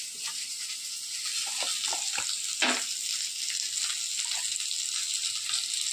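Potatoes frying with panch phoron five-spice in a home kitchen: a steady, close hiss of sizzling oil runs throughout, with a few scattered clinks and one brief louder crackle.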